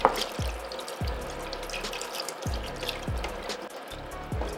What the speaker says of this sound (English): now I'm gonna add in the rest of my chicken stock. I'm just pouring this directly over.